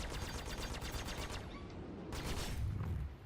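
Gimbaled ship weapon fire in the Star Citizen space game: a fairly quiet, steady stream of rapid shots like a fusillade, lasting about three seconds with no talk.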